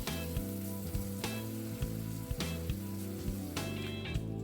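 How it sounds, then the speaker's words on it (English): Chopped tomatoes hit a hot pan of ground beef freshly deglazed with red wine vinegar, giving a steady, close sizzle and frying hiss over background music throughout. "now we're gonna add those chopped tomatoes"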